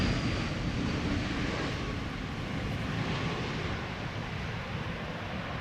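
An easyJet airliner arriving from Prague turns in to land at Schiphol, heard as a steady, distant jet roar with wind rumble and no voices.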